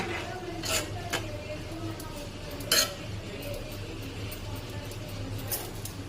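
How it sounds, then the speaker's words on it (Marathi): A lid goes onto a cooking pot of potato curry, with a few sharp metallic clinks against a low kitchen background hum, close and fairly quiet. "त्याच्यावरती झाकण ठेवायचं."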